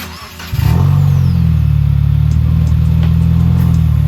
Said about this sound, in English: So I'll have Tim turn it on and see what it sounds like.